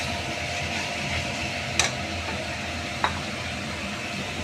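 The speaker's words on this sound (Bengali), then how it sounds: "এই যে লাল করে আমি ভেজে নিয়েছি।" Spices fry in oil for an egg and cauliflower curry, a steady, close sizzle broken by two sharp spoon clicks against the pan.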